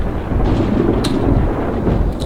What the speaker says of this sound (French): Il manquait plus que ça, un orage.